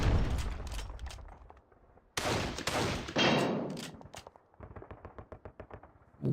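Gunfire rattles through a Squad Battles Eagles Strike game, with heavy overlapping bursts and booming shots up front, then a rapid string of evenly spaced automatic rounds, loud and close throughout.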